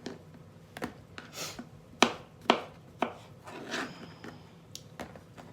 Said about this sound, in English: I'm going to cut up these mushrooms